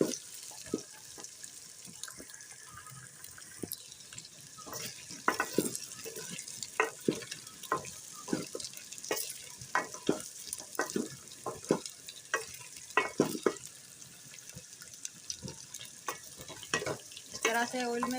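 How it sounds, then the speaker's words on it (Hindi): Taro pieces with ginger and garlic fry in oil with a soft, constant sizzle, while a spoon knocks and scrapes against the pan in irregular bursts over a long stretch, close by and fairly quiet, with no talking. "अरबी और अदरक लहसुन को हम 8 से 10 मिनट तक भून लेंगे अच्छी तरह से"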